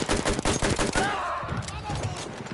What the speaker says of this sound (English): Right now I'm using a double magazined light machine gun.